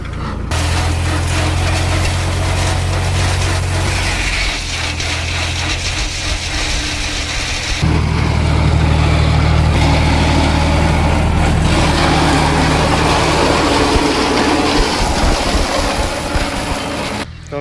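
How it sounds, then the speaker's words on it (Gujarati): A John Deere 5105 4x4 tractor cutting cotton stalks in a field, its engine a loud steady low drone that shifts pitch and load partway through, close and continuous with no talk. "કપાસ કટિંગ કરવાનું ચાલુ છે."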